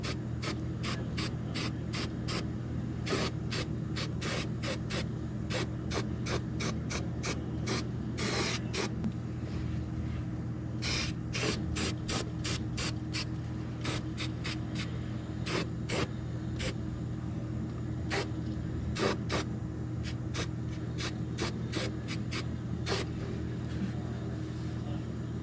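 Aerosol coating sprayed onto the shock towers of a 1969 Mustang during rust repair: a continuous hiss with a low hum beneath and many short, sharp clicking bursts at an irregular rhythm.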